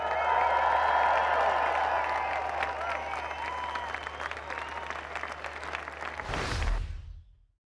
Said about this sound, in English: having all those people clapping and cheering him like that